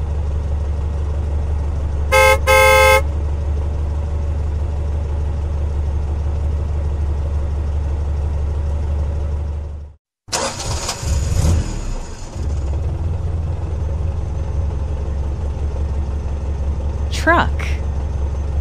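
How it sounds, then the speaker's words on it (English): A jeep idles with a low, steady engine rumble, gives a quick burst of horn toots, then after a brief gap its engine revs and rattles up close before a couple of faint final toots. "Jeep."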